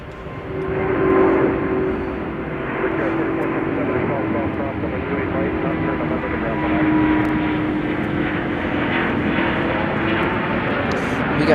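An Air Wisconsin airplane takes off from Chicago O'Hare, its steady engine roar swelling slightly as it climbs, with people talking over the noise.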